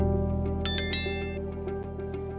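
A bright bell chime rings twice in quick succession over a steady background hum, clear and close, then fades.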